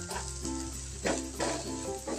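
Shrimp paste and spices sizzling as they fry in a pan, close and steady, with a few scraping stirs cutting through the hiss; no one talks.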